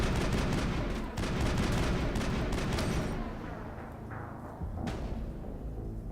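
Dense, sustained gunfire in the video game Mass Effect 1, with rapid bursts and booms, loud and continuous, easing slightly partway through before picking up again.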